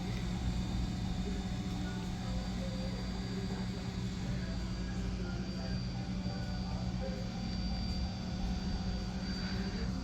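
A worn fuel pump in a 2014 Ram 1500 runs with a steady, droning whine and hum, holding the same pitch and level throughout.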